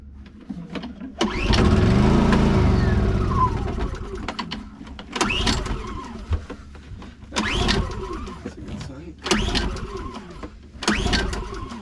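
The engine of a 1976 sailboat with a fuel pump is cranked repeatedly to fill the carburetor bowl: one long, loud crank, then four shorter cranking bursts separated by brief pauses, close up.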